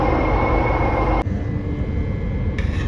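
A steady, loud rumble and roar of a metro train running along the tracks, with a sudden shift in tone partway through as the noise continues.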